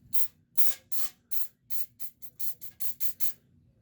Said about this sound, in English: we're going to come over here and spray those down with some PB Blaster